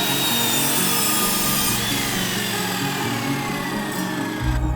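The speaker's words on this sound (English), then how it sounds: "then cut some pieces of timber down to the width of that" A saw cuts through timber pieces for a worktop in a close, loud, continuous rasping drone that ends abruptly near the finish, with no voices.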